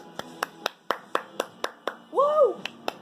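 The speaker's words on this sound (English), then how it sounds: "Let me just clap for myself." A single person claps their own hands at a steady pace, about a dozen sharp, close claps spaced roughly a quarter second apart, with a brief cheering voice breaking in near the end.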